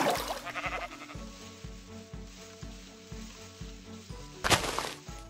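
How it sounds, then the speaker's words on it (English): A sheep in the Minecraft video game gives a short series of regular bleats over a sizzling, static-like background, ending with a louder burst near the close. "I finally found a sheep."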